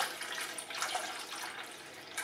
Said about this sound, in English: The first thing I'm going to do is obviously fill the thing with water, because you have to have water to make coffee.